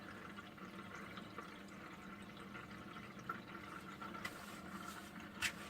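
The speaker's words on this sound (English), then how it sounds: "There you're going to hear some water, some air coming through it" Water and air trickle and gurgle continuously through a new Aqua One Ocellaris 850 aquarium filter, with bubbling air, a soft steady flow, and a few small splashes near the end.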